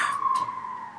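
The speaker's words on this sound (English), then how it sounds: "I got an ambulance driving by here" An ambulance siren drives past at a distance, a faint, brief wailing tone fading slightly as it goes.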